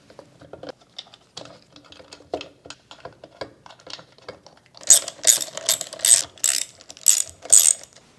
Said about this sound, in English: We then want to tighten the flywheel to 116 foot-pounds.